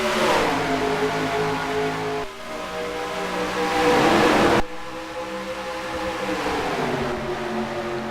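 Several race cars accelerate together at the green flag in a racing video game set at Las Vegas, their engines roaring loudly and steadily with rising and shifting revs throughout, no one talking.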